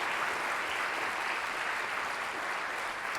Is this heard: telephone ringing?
no